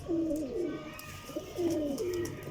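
A female flying pigeon coos close by, two rolling, wavering coos a little over a second apart over a low background hum.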